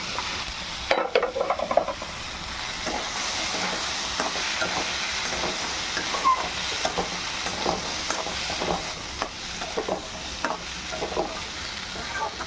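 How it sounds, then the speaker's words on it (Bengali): Green peas for ghugni are sautéed in fried spice masala in a pan, a continuous close sizzle broken by repeated stirring scrapes and clatter, with no talk. "মশলাটা ভাজা ভাজা হয়ে গেছে, এখন এটা দিয়ে ভালো করে আমি এটাকে কষাবো।"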